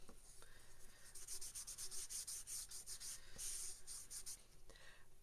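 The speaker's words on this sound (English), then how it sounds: "And we just rub on and rub off." Soft rubbing strokes as wood stain is worked onto wooden craft sticks by hand, a run of quick scratchy swipes, close but faint, with no voices.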